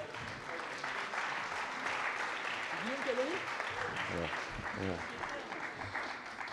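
A live audience applauds basketball players after they sink three free throws at a sports event. The clapping is steady and fills the room, with voices talking over it.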